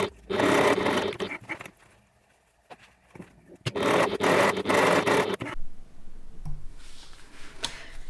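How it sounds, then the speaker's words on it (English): A sewing machine stitches down the sides of a backpack pocket in two loud, steady runs of a few seconds each, separated by quieter pauses with faint handling sounds. "we're going to stitch down each side of the pocket to close that up"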